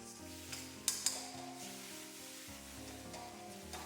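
Diced eggplant with egg, thickened with a starch slurry, stir-fried in a pan: quiet scraping and stirring with a couple of sharp utensil clinks against a soft steady background hum.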